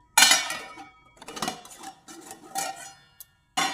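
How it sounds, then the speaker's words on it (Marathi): Metal spoon scraping and clinking against a pan while stirring teasel gourd (kartule) vegetable, then a lid set down with a clank; a few distinct metallic knocks spaced apart, close and fairly quiet. "परत असं हलवायचं आणि 2 मिनिटासाठी झाकण ठेवून द्यायचं"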